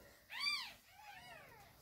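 A small kitten gives two thin, high meows in a quiet room, the first louder and the second softer and drawn out, with no talking.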